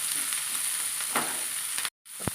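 Onions sizzle in coconut oil with ginger and curry leaves, a dense, close hiss that briefly cuts out near the end before a single sharp tap.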